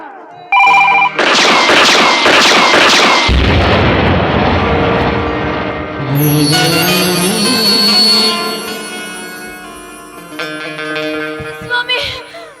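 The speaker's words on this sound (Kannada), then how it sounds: "ಕೊನೆಗೂ ಗುಂಡು ಹಾರಿಸಿ ಬಿಟ್ಟೆ ನೋಡಿ ನಿಜ" Loud bangs burst out close and harsh in a live Kannada stage drama, several sharp blasts in quick succession, followed by ringing, tonal musical accompaniment that slowly fades.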